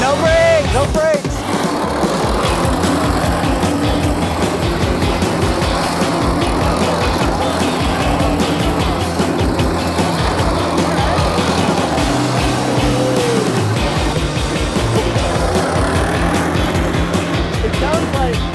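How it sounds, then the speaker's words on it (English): A ride-on toy car converted to electric power drives along, giving off a loud, steady, engine-like whirring drone throughout, with excited voices talking and shouting over it. "I wish it didn't sound like a gas engine."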